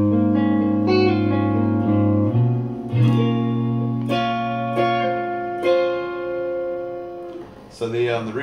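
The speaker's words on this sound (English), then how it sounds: "So the reverb I've got pretty high up" Electric guitar run through an amp with heavy reverb, playing sustained chords and single notes that ring out with long, washy tails, steady and fairly loud throughout.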